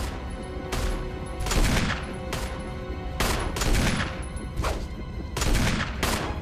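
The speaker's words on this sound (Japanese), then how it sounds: "めっちゃ撃ってるけど" Gunfire in the video game Biohazard (Resident Evil) sounds as a run of loud, close, booming shots, roughly seven heavy blasts at uneven intervals, each trailing into a broad rumble.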